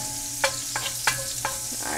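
Mushrooms fry in a pan under a soft, steady sizzle, punctuated by four or five sharp clacks of a spoon or spatula stirring them at an uneven pace; fairly quiet and close, no talking.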